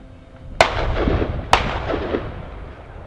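Two sharp shotgun blasts, about a second apart, ring out at high driven birds on the Drumlanrig Estate in Scotland, each followed by a long rolling echo across open country.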